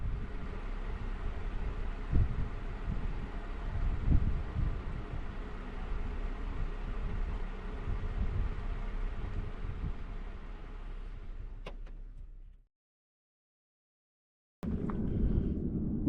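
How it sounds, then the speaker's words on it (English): Steady wind roars across an open ridge top, buffeting the microphone for about twelve seconds before cutting out briefly, then returning with a low rumble. "We couldn't hardly find a place out of the wind"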